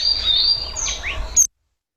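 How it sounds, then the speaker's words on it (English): A mountain bulbul calls in the Uttarakhand mountains: several bright chirps and quick sweeping whistles over a steady outdoor hiss, fairly close, cutting off abruptly after about a second and a half. "The last bird is mountain bulbul."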